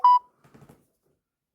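A single short electronic keypad tone from a new phone sounds loud and close at the start, followed by a brief faint muffled rustle before silence.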